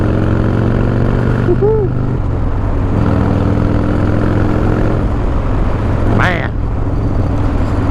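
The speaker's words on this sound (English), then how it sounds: "you gotta love the sound of that Evo" An Evo-engine motorcycle runs with a steady, low, throbbing drone that holds level throughout, while someone talks and whoops over it.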